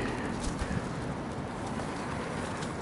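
Pigeons, among them a gold bird, coo and stir in a loft amid a steady, dense wash of rustling and wing flutter, continuous and fairly close throughout.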